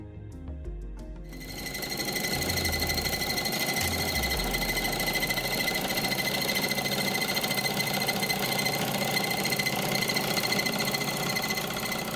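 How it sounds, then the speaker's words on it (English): Miniature generator turned by a flywheel through a drive belt, powering a light bulb filament; after a quiet start it spins up into a fast, steady mechanical whirr and rattle that holds without pause. "A drive belt connects the flywheel to the generator."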